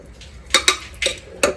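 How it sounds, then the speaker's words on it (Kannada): A spoon of ghee goes into a pan for tempering, heard as a few sharp metal clinks of spoon against pan, close and distinct, over a faint background hum. "ಫಸ್ಟ್ ಗೀ ಹಾಕ್ತೀನಿ 1 ಸ್ಪೂನ್"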